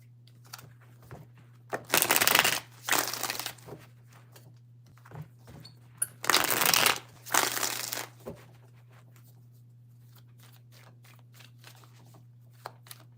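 Tarot cards are shuffled in two distinct bursts of riffling and crisp card-slapping, each lasting about two seconds, close by over a constant low hum, followed by quieter handling taps.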